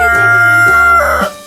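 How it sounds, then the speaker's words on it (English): A rooster crows loudly and close, one full cock-a-doodle-doo that rises, holds, and breaks off at the end. "This is a rooster."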